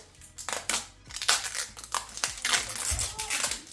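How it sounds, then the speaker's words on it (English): Thin plastic protective film peeled off a new light switch plate, giving a series of close crinkling, crackling rustles in short bursts. "So these always come with a plastic protective film on it. You just want to pull that off first."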